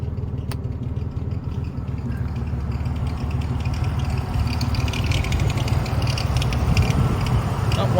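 A salvage Cadillac Cimarron engine idles steadily with a worn power steering pump, a continuous low rumble with faint clatter and a whine-tinged hum running throughout, fairly close and moderately loud.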